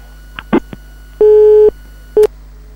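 A telephone line gives a few short clicks and then two electronic tones, one long steady beep and a shorter one after a pause, clear and close with no talking.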